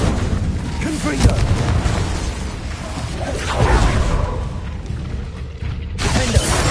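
Bombarda spell explosions from Hogwarts Legacy boom repeatedly in heavy, rumbling bursts amid ongoing combat clatter, loud and close throughout.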